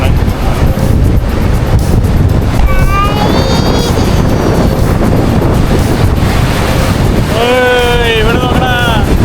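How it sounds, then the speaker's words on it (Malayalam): Strong sea wind and breaking waves off the coral shore of Neil Island in the Andamans. Loud buffeting wind roar rumbles over a steady wash of surf, with faint voices briefly rising above it. "നല്ല കാറ്റും തിരമാലേൻ്റെ ശബ്ദവും സൂപ്പറാട്ടോ"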